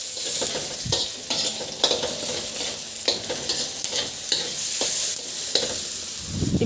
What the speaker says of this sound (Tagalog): Igisa ko na rin yung sibuyas. Ihalo lang din hanggang sa mag-translucent.